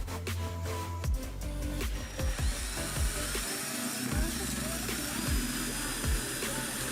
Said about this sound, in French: On l'insère dans la perceuse et on essaie de percer la planche.